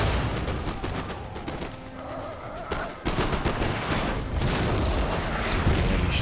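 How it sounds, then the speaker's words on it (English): Artillery fire in a Napoleon: Total War battle between Russia and France, with a series of cannon shots and impacts thudding at a distance over a continuous battlefield din, one sharper blast standing out midway. "Let's watch some of this artillery come in and strike"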